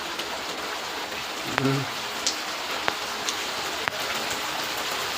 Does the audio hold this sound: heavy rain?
yes